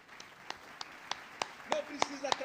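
Hand claps at a Portuguese-language church service, a congregation applauding for Jesus: sharp claps land in a regular rhythm roughly every third of a second, growing slightly louder, while a voice speaks over them.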